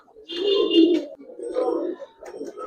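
Coloured pigeons kept as pets cooing in soft, throaty bursts, several low rolling calls close by with short pauses between them.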